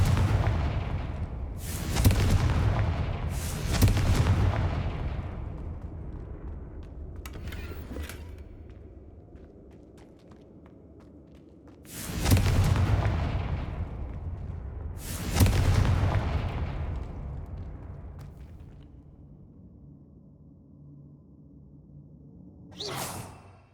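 Confringo blasting spells in Hogwarts Legacy burst as several loud booming explosions with whooshing tails, two pairs spaced apart and a sharp final blast, with quiet rumbling between them.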